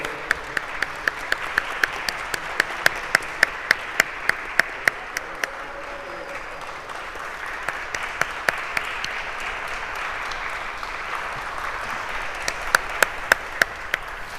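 An audience at a conference applauds with sustained, even clapping, while a few sharp, close, rhythmic claps stand out above it at the start and again near the end.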